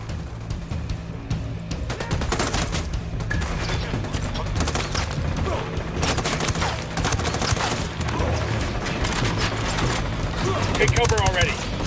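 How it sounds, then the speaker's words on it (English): Dense gunfire in the video game Ghost Recon Wildlands, rapid automatic bursts and mechanical clatter filling the scene continuously, loud and close, with voices talking over it. "Opening fire."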